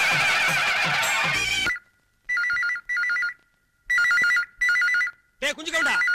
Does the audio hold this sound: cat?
no